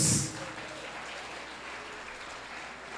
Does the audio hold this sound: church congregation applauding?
yes